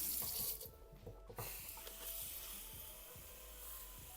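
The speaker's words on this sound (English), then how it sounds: "put it under running water." Running tap water splashing over lettuce in a sink, a steady gush that briefly cuts out and resumes, close and fairly quiet.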